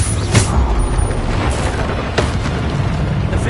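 A Bombarda blast spell from Hogwarts Legacy goes off as a deep, rumbling boom, with strong bass that stays dense and loud for the whole stretch. Brighter bursts of debris come through near the start and again midway.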